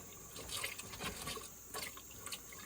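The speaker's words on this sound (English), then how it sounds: "Just going to give everything a quick stir." Beans get a quick stir in a pot, a faint wet sloshing and scraping, close but quiet, with soft irregular swirls of liquid.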